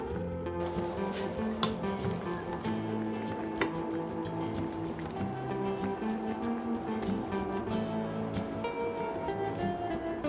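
Carrots and onions hit a hot frying pan for a chicken dinner, setting off a steady close sizzle with crackling spatter that continues evenly throughout, no talking.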